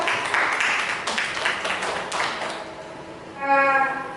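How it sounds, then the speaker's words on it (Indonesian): Classmates clap for a student group in a school lesson, scattered hand claps fading over a few seconds before a short tonal sound near the end, with a voice faintly present. "Tepuk tangan untuk kelompok 2."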